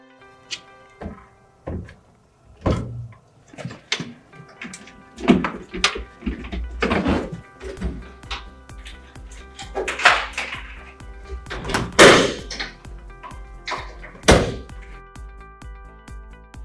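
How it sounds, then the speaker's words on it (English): A panel door being fitted onto its hinges during assembly of an M NEXT panel, with a series of irregular hollow thunks, knocks and clatters, some sharper and louder, spread over the whole stretch. "Place the door onto the hinge C and hinge U."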